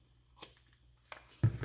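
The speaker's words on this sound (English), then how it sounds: "So we'll do a little clip of that one, trim it just a little bit." Scissors snip paper for a junk journal collage cover, three or four quick, close, crisp cuts in under two seconds with short quiet gaps between them.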